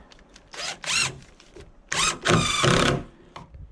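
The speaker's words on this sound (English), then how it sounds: "I'm going to screw them into place here" A power drill drives screws into a window frame of a tiny house, giving several short whirring bursts and then two longer ones, close and loud.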